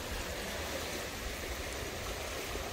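A river flowing through a marsh, heard as a steady, broad rushing and burbling of water that continues unbroken and fairly loud, with no voices over it.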